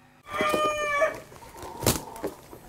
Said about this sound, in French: détend les muscles de son coq et vérifie son ardeur